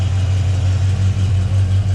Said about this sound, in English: Engine runs very strong.